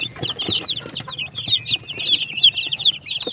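Rhode Island chickens cluck in quick, uneven bursts, close by and fairly loud, several birds overlapping in a busy farmyard chatter.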